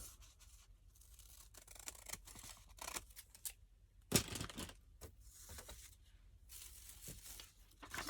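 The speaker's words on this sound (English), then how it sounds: "I'm going to trim that edge." Scissors trim the edge of book pages in a papercraft project, producing faint intermittent snips and paper rustles at close range, with one sharp click midway.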